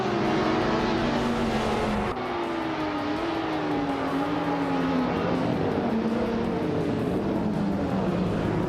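Race cars launch at the start in a racing video game, among them a Lamborghini and a 1990 Mercedes-Benz 560C, with a steady, loud engine roar that rises in pitch and holds through the whole stretch, with no talk.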